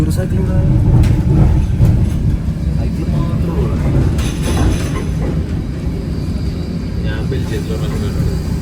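A tram ride in Ghent, Belgium: steady rumbling rail and motor noise fills the cabin, with squeals and clunks as the car moves, and people talk over it at times.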